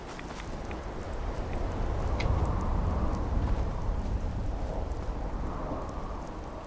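Radiation storm in Fallout 4 on the way to Far Harbor: heavy, steady rain with a low rolling thunder swelling in the middle and fading toward the end, no speech.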